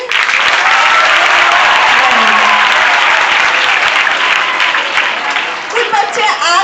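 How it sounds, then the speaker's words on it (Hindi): Loud, sustained applause from a school audience for a student at a Teacher's Day event, steady and dense before easing slightly near the end as a voice starts speaking. "तो आप लोग भी उसके लिए तालियां बजाइए।"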